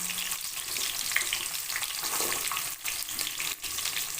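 Small onions sautéing in oil for a sundakkai tamarind curry, a loud, dense, continuous sizzle close up with brief dips and light stirring scrapes, no one talking.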